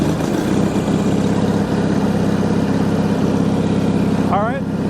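A Bolens HT20 garden tractor engine idles steadily and loud throughout, a constant low throbbing rumble, with a brief rising whine near the end.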